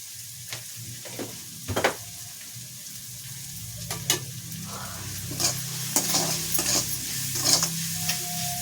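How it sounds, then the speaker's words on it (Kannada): Fenugreek gojju stirred with a spoon in a hot pan after salt goes in, soft sizzling underneath and scattered scraping taps against the pan, close and alone with no talk. "ಉಪ್ಪೆಲ್ಲ ಹಾಕಿದ್ದೀವಲ್ಲ ಒಂದ್ಸಲ ಈ ರೀತಿ ಮಿಕ್ಸ್ ಮಾಡ್ಕೊಬೇಕು"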